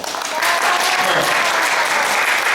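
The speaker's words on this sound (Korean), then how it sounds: "박수 한번 주세요." A congregation at a Korean church service breaks into dense, sustained applause, many hands clapping together loudly and evenly for a couple of seconds.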